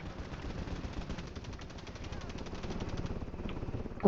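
Rapid automatic gunfire from a shotgun in Warzone 3 rattles in a dense, continuous stream of evenly spaced shots, moderately loud and steady for the whole stretch.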